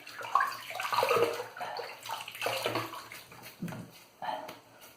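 Water splashes and drips at a sink as a face is wetted before shaving, a series of close, uneven sloshes and trickles with short pauses between handfuls.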